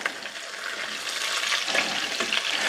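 Hamburger steaks frying and browning in a pan give a close, steady sizzle with crackling pops, continuous and fairly loud, with no one speaking.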